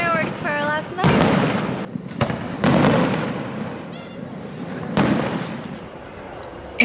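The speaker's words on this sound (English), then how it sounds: "They're having fireworks for our last night." Fireworks on the Amalfi Coast at night: several sharp booming bursts spaced a second or so apart, fairly close and loud, with voices talking between them.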